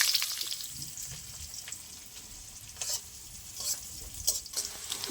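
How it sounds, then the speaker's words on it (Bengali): Chopped onions fry in a pan with whole garam masala, cumin, a dried red chili and bay leaves, giving a soft steady sizzle with occasional scraping stirs that swell into louder bursts near the end. "পেঁয়াজটা ভালো করে ভেজে নিয়েছি লাল লাল করে।"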